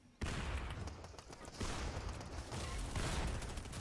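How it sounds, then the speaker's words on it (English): Bursts of video game gunfire in Fortnite erupt after a brief quiet start, a dense, rapid, fairly loud crackle of shots continuing to the end. "Oh my god, I'm being shot up by both."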